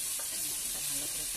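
Masala with chopped tomato sautéing in a pan, a steady soft sizzle with faint scraping stirs, close and alone with no voices.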